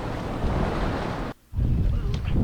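Strong wind of about 20 mph roars and buffets against the microphone on a fast-current waterway near St. Augustine, broken by a brief lull partway through, with water sounds beneath.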